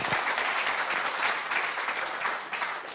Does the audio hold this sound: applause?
yes